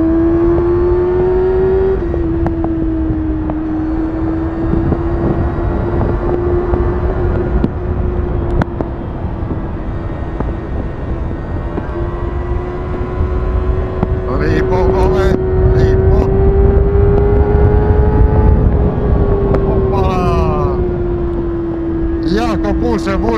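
A 2024 Kawasaki Ninja 636 motorcycle engine drones steadily while riding, its pitch rising and falling slightly, with loud wind rumble throughout.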